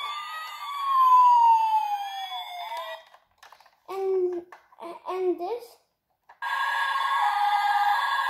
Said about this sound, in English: It's fire truck.